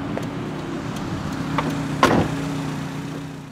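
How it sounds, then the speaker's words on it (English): Electric power window on the driver's side of a 1988 Toyota MR2 supercharged AW11 sliding down, a soft motor whir over a steady engine idle, with a sharp click near the middle. "The driver's side window is automatic down"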